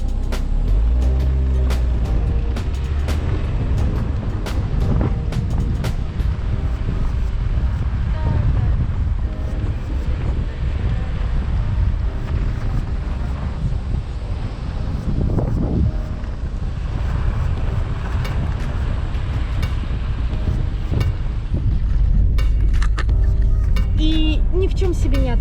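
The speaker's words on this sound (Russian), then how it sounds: "Едешь по гравийной дороге." A car rolls along a gravel road outside Minsk, Belarus, with a steady rumbling tyre and engine roar and wind buffeting the microphone throughout, while a voice talks over it.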